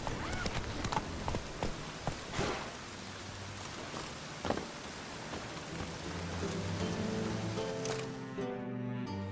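Hooves clip-clopping at a trot from a horse in The Witcher 3 video game, a steady run of soft thuds set in a constant rain-like ambient wash that drops away near the end.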